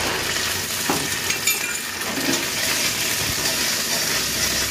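Ginger frying in a pan with a splash of water gives off a steady close sizzle and hiss, with occasional stirring scrapes and no voices.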